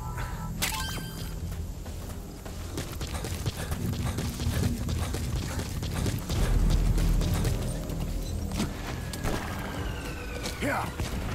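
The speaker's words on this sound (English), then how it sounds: "Use your horse." A horse's hooves clip-clop in Metal Gear Solid V: The Phantom Pain, a steady run of thudding steps mixed with game effects, with a voice talking over part of it.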